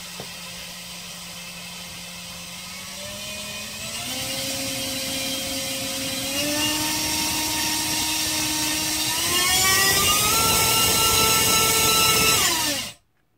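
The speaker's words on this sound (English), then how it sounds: "This is the 3100 kV motor with the Rotorex tri-blade prop." A DYS 1306 3100kV brushless motor spins a Rotorex tri-blade prop, whining steadily and stepping up in pitch and loudness in several stages before cutting off abruptly at the end.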